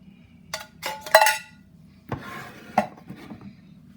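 Canned coconut milk going into a large cooking pot, heard as a handful of sharp metallic clinks and knocks, close and distinct, followed by a softer scrape and a later tap.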